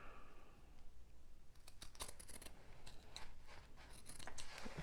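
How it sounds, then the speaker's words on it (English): Scissors trimming the sides of sewn fabric for a dumpling pouch, a run of quick crisp snips and cutting clicks clustered in the middle, close and fairly quiet over soft room noise. "I'm just going to trim off the sides here."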